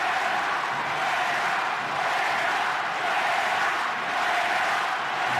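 Basketball arena crowd in Salamanca jeering an ejected coach, a continuous dense wash of voices swelling slightly, loud and steady without clear individual shouts.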